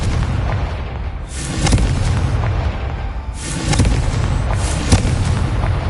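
Confringo explosive spells cast in Hogwarts Legacy, loud blasts erupting in two main bursts with crackling, firework-like bangs and rumbling aftershocks, dense and close.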